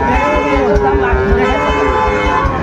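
A cow at a cattle market in Parbatipur, Dinajpur, lets out a long, loud, drawn-out moo close by, with a low rumbling pitch that slides slightly over its length.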